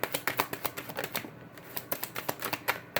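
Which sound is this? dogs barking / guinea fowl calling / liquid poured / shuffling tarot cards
shuffling tarot cards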